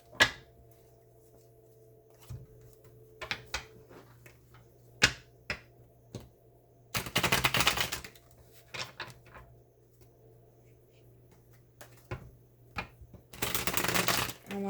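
Tarot cards are handled: two brisk riffle shuffles, each lasting about a second, separated by sharp taps and clicks as cards are drawn and laid down, over a faint steady background hum.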